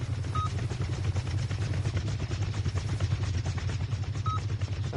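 A Chinook helicopter in the video game Rust thumps with a steady, rapid low rotor beat that holds constant throughout, with faint high beeps at start and end.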